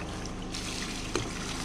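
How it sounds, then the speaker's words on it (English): River water trickling and pouring into a washing machine drum at an off-grid camp, a steady close liquid flow with a brief splash near the end. "and then straight river water"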